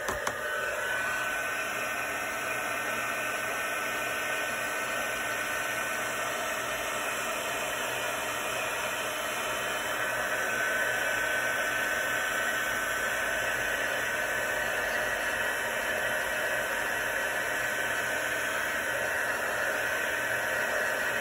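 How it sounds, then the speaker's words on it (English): Heat tool blowing hot air onto Heat and Stick embossing powder, a steady close whooshing roar with a constant high whine, unbroken for the whole stretch with no talk. "it's going to be loud, it's going to be noisy, because I'm going to be using my heat tool."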